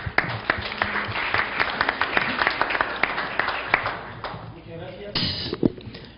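An audience at a human rights panel discussion applauds the panelists, a dense burst of many hands clapping close by that thins out toward the end as a few scattered claps and thumps linger.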